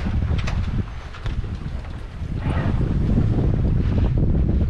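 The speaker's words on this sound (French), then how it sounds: "Le vent il s'est un peu levé" Wind rising over a sailboat at sea, a gusty roar buffeting the microphone beneath the low rumble and wash of water, growing stronger toward the end.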